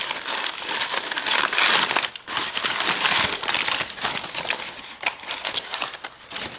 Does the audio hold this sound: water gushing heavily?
no